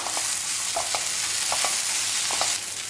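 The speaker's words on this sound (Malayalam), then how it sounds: "ഇനി ഇതെല്ലാം കൂടി നന്നായിട്ട് മിക്സ് ചെയ്തെടുക്കാം." Coconut pieces and onions fry in a pan, a steady loud sizzle with several short scraping strokes of stirring at irregular intervals.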